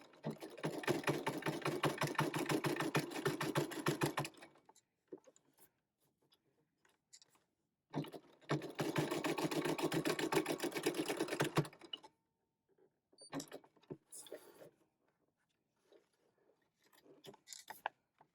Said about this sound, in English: I got this sewed all the way around